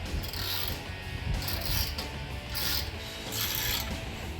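A wrench ratcheting as a bolt is tightened on an MBRP cat-back exhaust with carbon fiber tips on a 2015-2022 Dodge Challenger 3.6L, repeated metallic clicking in rhythmic swells over background noise.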